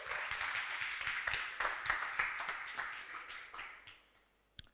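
Applause from a conference audience as a presenter comes on stage at a business demo day, a dense steady patter of many hands that fades out over the last second, ending with one sharp tap.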